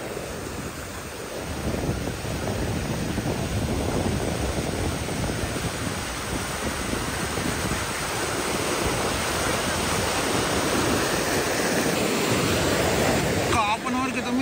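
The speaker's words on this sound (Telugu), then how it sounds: "చూడండి ఎంత ఉద్రిక్తంగా ప్రవహిస్తుందో ఈ చెరువు" Water from an overflowing lake rushes loudly and continuously over a weir, a steady roaring flow that fills the whole stretch.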